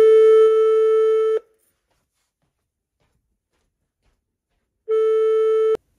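Call tone played loud through the speakerphone of a Geemarc AmpliPower 50 amplified telephone: a steady buzzing tone lasting over a second, a long silence, then the tone sounds again, clear and close, with no voices.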